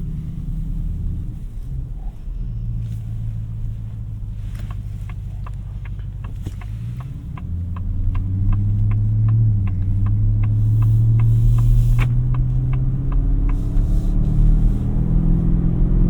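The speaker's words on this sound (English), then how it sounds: "Engine sounds great." A 2026 Ford F-150 Raptor R pickup truck engine rumbles steadily, then its pitch rises and swells louder as it accelerates, with faint wind noise throughout and no talking.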